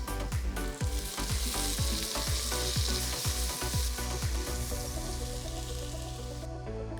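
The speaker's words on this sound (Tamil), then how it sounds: "1/2 டேபிள் ஸ்பூன் இஞ்சி பூண்டு பேஸ்ட் சேர்த்து வதக்குங்க" Onion and ginger garlic paste sizzle and crackle in a hot pan for mutton curry while a spoon stirs and scrapes in a steady, repeated rhythm.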